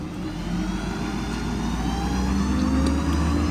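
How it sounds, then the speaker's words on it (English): A 6.7 diesel engine in a 2011 Ford F-550 mechanics crane truck idles up as its compressor kicks in, a steady close low rumble that rises slightly in pitch and level, with no talk. "Turns the compressor on from the remote."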